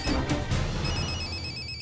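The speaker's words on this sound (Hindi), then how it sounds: "सोमिल भाई का फोन है।" A telephone bell rings loudly in repeated bursts indoors, heard alone without any talk.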